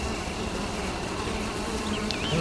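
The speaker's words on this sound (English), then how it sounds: "Bees." Buzzing bees in the video game Zork: Grand Inquisitor, a continuous droning hum that stays steady and fairly loud throughout, with faint higher tonal sounds drifting in near the end and no talk.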